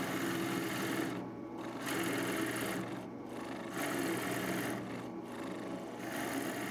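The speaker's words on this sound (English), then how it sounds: "I'm going to drill a 1-inch hole" A drill bores a 1-inch hole into a wooden anvil stand, a steady whirring drone that dips briefly in pitch several times as the bit bites and eases, with no talking.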